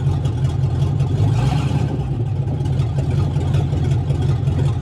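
An International Travelall engine runs with its exhaust disconnected from the manifold, giving a loud, steady low rumble with a raw, unmuffled edge throughout and no talking.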